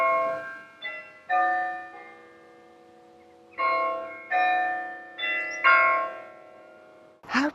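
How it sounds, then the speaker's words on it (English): Church bells chime in a rural Peak District town at night, a series of ringing strikes in uneven groups with long sustained tones, heard clearly from a short distance in otherwise quiet surroundings. "you can hear the church bells ringing overnight"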